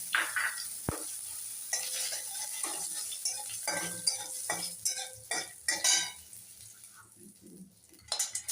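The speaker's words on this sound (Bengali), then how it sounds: "কড়াইতে জিরা ফোড়ন দিয়ে দিলাম, তেজপাতা দিয়ে দিলাম, গরম মশলা দিয়ে দিলাম," Cumin seeds, bay leaf and garam masala fry in oil in a wok as the base for an egg curry, giving a close sizzle with bursts of stirring and clinks of a metal utensil against the pan.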